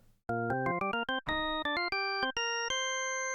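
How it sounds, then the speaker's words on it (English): Hammond-style tone-wheel organ patch in Phase Plant with all tone wheels at maximum volume and percussion on. A rapid run of bright, stepped chords climbs in pitch and ends on a held chord, loud and alone. "So the tone wheels that are on right now are at maximum volume"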